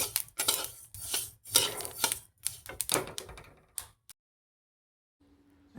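Roasted sesame seeds are scraped from a pan onto a plate, with a quick run of sharp metallic utensil clinks and taps that stops abruptly, leaving near silence.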